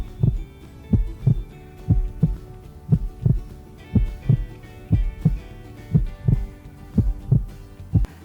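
A steady heartbeat thumps in a clear, even rhythm, each beat a soft low double pulse repeating about every two-thirds of a second, alone over a faint hum.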